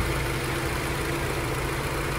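The 2.0-liter twin-turbo petrol engine of a 2021 MINI Cooper S Countryman JCW blackout edition idles with an even, continuous hum and faint vibration, with no voices.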